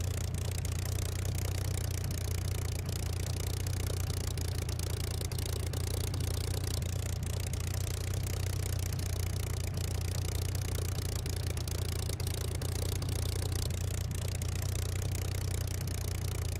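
A Spitfire L.F. Mk IXc piston engine idles steadily while the aircraft taxis in a flight simulator, a low continuous drone with faint rattling clatter and no pauses throughout.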